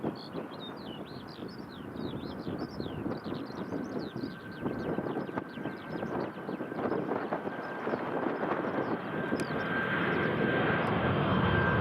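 A TUI Boeing 737 MAX airliner passes at Newcastle International Airport, its engine roar building steadily and growing louder toward the end, with wind buffeting the microphone and faint birdsong early on.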